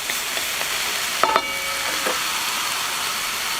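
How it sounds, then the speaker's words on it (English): Constant close sizzle of pork brisket cooking in a pan, with a couple of brief metallic clinks partway through as a lid or utensil touches it. "we're going to turn down the heat a little bit, cover them, and let them simmer for a little while"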